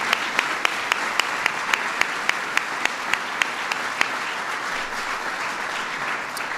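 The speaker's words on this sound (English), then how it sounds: "So give Lawrence a big round of applause." Steady applause from a crowd of guests at a White House reception for LGBT Pride Month, a dense clatter of clapping with sharp individual claps standing out, holding evenly throughout.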